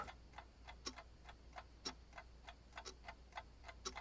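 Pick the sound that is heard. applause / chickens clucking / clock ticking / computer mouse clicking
clock ticking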